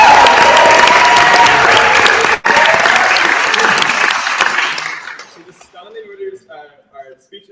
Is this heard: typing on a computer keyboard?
no